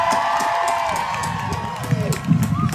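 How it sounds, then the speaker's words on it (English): A crowd at a class of 2021 graduation ceremony cheering and shouting, a mix of voices and whoops with scattered clapping, fairly loud and close. "please give the class of 2021 a big round of applause"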